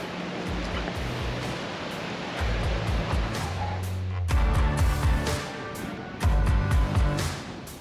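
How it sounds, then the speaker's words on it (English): Ocean waves roll onto the beach at Jekyll Island, a broad roaring wash that swells and recedes, heavily buffeted by wind gusts and low rumbles. "there's the ocean."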